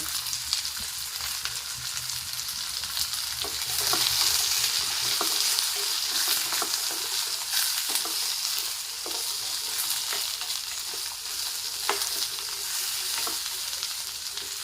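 Dried red chillies and curry leaves sizzle steadily in hot oil for a garlic pickle, a continuous bright frying crackle with occasional pops and light stirring, close and loud throughout with no talking.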